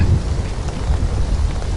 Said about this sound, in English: Ooh, storm!